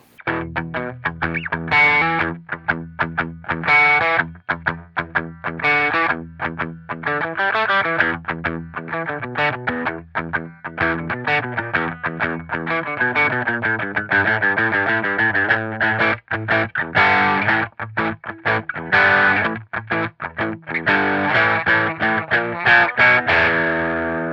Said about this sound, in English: let's go ahead and just add the simple tube screamer and hear what this humbucker sounds like